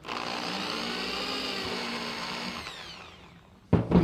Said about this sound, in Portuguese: Faz um pré-furo na segunda madeira.